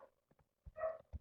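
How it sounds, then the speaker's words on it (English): Dogs bark indoors in the background of a home computer recording, a few short muffled barks spaced across the moment, faint and distant. "Please pardon the barking dogs."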